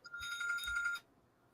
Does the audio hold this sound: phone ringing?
yes